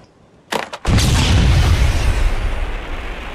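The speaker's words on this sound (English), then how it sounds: "If I throw the grenade somewhere" A smoke grenade thrown in an Unreal Engine 5 game goes off after a couple of quick sharp pops, followed by a loud, booming burst that holds a heavy hiss and slowly tails off.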